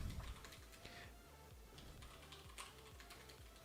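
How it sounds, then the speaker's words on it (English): Steady clacky keystrokes on a Das Keyboard computer keyboard, a quick irregular rhythm of close, crisp taps, quiet and without talk. "This is a DAS keyboard, and I love it."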